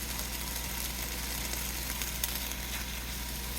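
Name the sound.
butter sizzling in a hot pan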